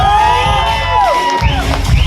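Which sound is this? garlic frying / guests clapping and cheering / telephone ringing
guests clapping and cheering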